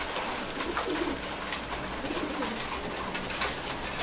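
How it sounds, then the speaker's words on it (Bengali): A pair of silver pigeons coo softly and repeatedly at close range, the low murmuring calls running under a constant background hiss. "খুবই সুন্দর এক জোড়া কবুতর।"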